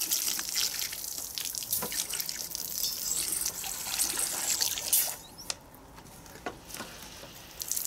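Water from a hand water pump trickles and splashes into a container during a children's water challenge, a steady close gurgle with scattered drips and small splashes, easing off partway through.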